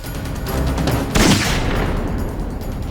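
Gunfire in a Hindi crime drama scene as a shot is fired to stop a prisoner fleeing custody; a sharp burst stands out near the middle over a steady, rumbling background with no talk.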